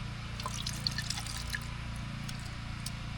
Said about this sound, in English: we're gonna put just a tiny bit of rinse aid